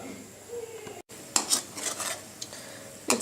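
Buttermilk stirred in a pot over a low flame while making butter, a spoon scraping and knocking against the pot in irregular strokes, close, over a soft simmering hiss.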